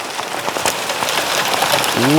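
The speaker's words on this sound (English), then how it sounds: "it just started hailing again" Hail pelting down outdoors in the Portland, Oregon suburbs, a dense steady patter of hard hits throughout, with a brief voice exclamation near the end.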